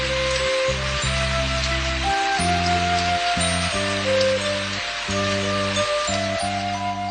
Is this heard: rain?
yes